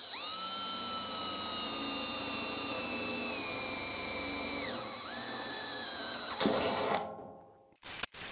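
Power drill boring holes, a close whining motor held steady, then dropping in pitch as it winds down and stops, followed by a few clunks.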